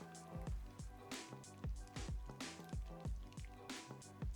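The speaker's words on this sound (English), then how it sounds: "I'll add a little bit of water." Water trickling and dripping into thick blueberry cobbler batter, a run of wet squishy drips and splashes repeating in irregular bursts, close and fairly clear, with no talk over it.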